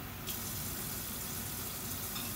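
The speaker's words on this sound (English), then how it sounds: "I'm just washing my jars and filling them up with about 2/3 of just hot water" Hot water runs steadily from a kitchen tap into canning jars being washed and filled, a continuous close hiss and splash throughout with no voices.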